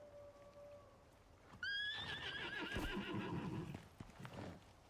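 A horse in the survival video game Icarus whinnies loudly with a wavering neigh, followed by soft hoof clip-clops and shuffling, fairly close and without talk.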